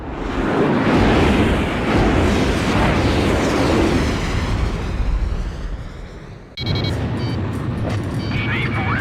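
Missiles released and exploding in the Ace Combat Zero jet combat game: a loud, rumbling roar of blasts and engine noise swells then fades, cut by a sudden shift to a bright, ringing burst of explosions and whine.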